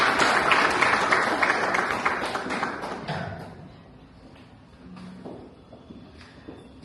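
Audience round of applause welcoming Dr. Zipporah Okoth to a panel discussion, loud dense clapping that fades out by mid-clip, leaving scattered taps and quiet room noise.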